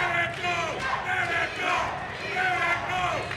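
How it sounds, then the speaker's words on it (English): A boxing crowd cheers and chants in rhythmic waves, calling out for a fighter during an exciting exchange, loud and close, with voices rising and falling repeatedly throughout. "Crowd starting to call for Jeter."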